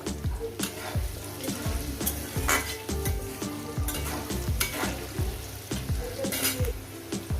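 Potato pieces frying in hot oil with salt for a fish-with-poppy-seed curry, a constant sizzle broken by regular scraping strokes of a spatula stirring the pan, close and busy throughout.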